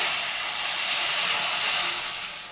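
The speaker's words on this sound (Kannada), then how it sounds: "ನೋಡಿ ಒಗ್ಗರಣೆ ರೆಡಿ ಆಯಿತು. ಹಾಕ್ಕೋಣ." Ghee tempering poured into hot mango rasam, giving a steady, loud hiss of frying that holds evenly for a couple of seconds before easing slightly, with no voices over it.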